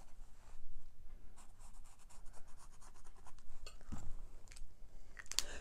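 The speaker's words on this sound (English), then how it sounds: "if you want to make a mark on it, you can" Pen marking on fabric while sewing a phone and tablet stand, heard as faint, scratchy strokes close by, coming in short bursts with soft rubbing between them and a sharper scrape near the end.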